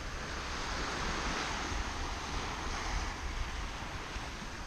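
Steady broadband roar of surf and wind at a beach, continuous and fairly loud throughout with no clear individual wave breaks, likely wind buffeting the microphone.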